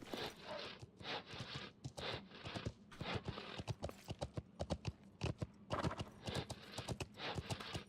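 Horse hooves clip-clop in a video game, a steady brisk rhythm of sharp close hits that runs throughout without talk.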